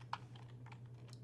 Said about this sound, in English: So I'm going to once again type a console.writeLine